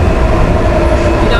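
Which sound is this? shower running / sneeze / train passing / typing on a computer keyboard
train passing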